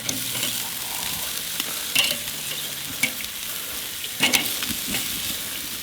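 Pre-cooked tri tip or picanha steak searing on a hot grill for char and grill marks, a low steady sizzle with a few sharper crackles and clatters, close and fairly quiet without speech.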